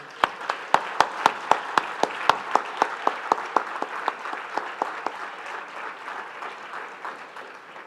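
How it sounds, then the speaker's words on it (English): A crowd at a breast cancer survivors' gathering claps, with a few loud, evenly spaced nearby claps at first under a dense patter of applause that gradually fades. "Can we clap for those people?"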